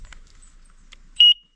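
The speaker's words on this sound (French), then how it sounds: "buzzer sentinelle" Sentinel rally alert buzzer on a digital road book: a single short, loud, high-pitched electronic beep near the end, preceded by faint clicks and low rumble, with no voices.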